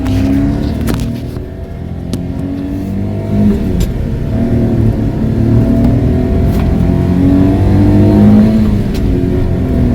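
A Honda Acty van drives around the block, its small engine droning and revving steadily up close from inside the cabin, growing gradually louder, with no talking.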